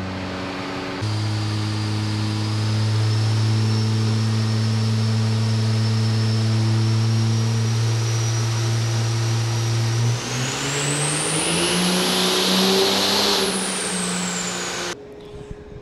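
Diesel truck engine on a chassis dyno at a diesel performance competition: a loud, steady droning hum that climbs in pitch into a rising, high-revving roar near the end before cutting out.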